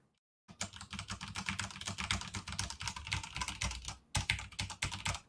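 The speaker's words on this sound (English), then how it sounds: "you guys can hear the clicky clack of the keyboard a little bit" Clicky mechanical computer keyboard typing, rapid irregular keystrokes close to the mic, continuous after a brief silent start, with a short pause near the end before resuming.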